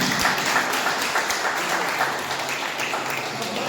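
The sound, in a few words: audience applause for a cricket team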